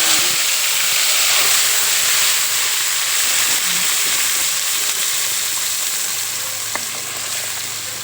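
A ground spice paste fries steadily in hot oil left over from frying paneer, with a loud continuous sizzle and hiss that stays even throughout and has no speech over it.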